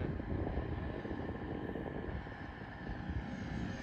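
A radio-controlled Ryanair 737 Max model jet flies overhead, giving a steady, loud roaring whoosh of engine noise with slight wind buffeting and no talking.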